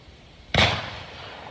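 A single sharp Glock 19 pistol shot at a shooting range, loud and close, with a sudden crack that decays into a short ringing tail and no talk around it.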